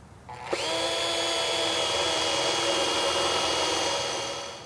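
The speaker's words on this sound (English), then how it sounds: "Now that you have your two holes drilled for your mounting surface, make sure you make a third hole for your motor wire." A power drill bores a hole for a shade motor wire, starting abruptly with a sharp bite and then holding a steady, close, high whine before easing off at the end.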